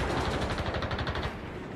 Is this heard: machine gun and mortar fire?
yes